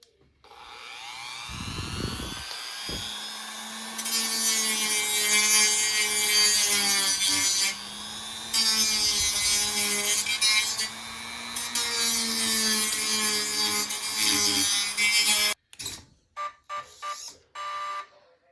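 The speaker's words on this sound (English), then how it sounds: "So I'm gonna go ahead and Dremel that up." Dremel rotary tool grinding down a part on a Vanquish Phoenix RC crawler, a loud high whine in several long bursts with brief pauses, then short choppy passes at the end.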